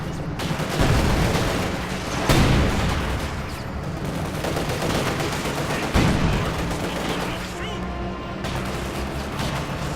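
A Panzerfaust anti-tank launcher fires during a battle in the WWII strategy game Company of Heroes 2, amid dense rattling gunfire bursts and sharp blasts that keep recurring for the whole stretch.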